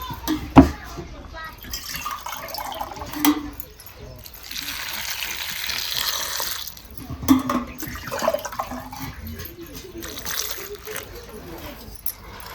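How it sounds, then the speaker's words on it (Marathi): Water is poured into a cooking pot holding drumstick (moringa) pods, a steady splashing fill lasting a few seconds amid lighter kitchen clatter, with a voice speaking nearby. "आता ह्याच्यात आपल्याला पाणी ओतायचंय"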